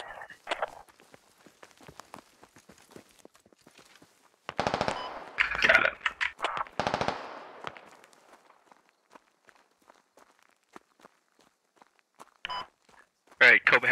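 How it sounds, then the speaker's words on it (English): Squad video game gunfire: loud rapid automatic bursts near the middle and again at the end, among footstep-like ticks and quieter gaps, with voices talking over parts of the clip. "We're taking shots from the east."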